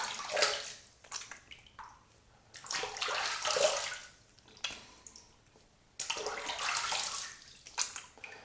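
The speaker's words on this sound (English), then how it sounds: "All right, let's go ahead and rinse off." Tap water runs in bursts while shaving lather is rinsed off a face and hands at a sink. Splashing swells and pauses several times, close and fairly loud, with no talking over it.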